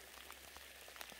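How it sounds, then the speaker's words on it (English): Rain falling in an Oregon forest in the Pacific Northwest, a faint steady patter of drops on leaves and ground with scattered soft ticks close by. "it's because it's raining"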